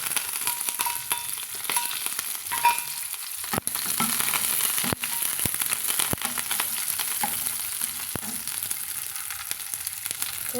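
Small onions and curry leaves crackle and sizzle in hot oil with mustard seeds, a steady close frying hiss broken by sharp pops and spatters, with no voices.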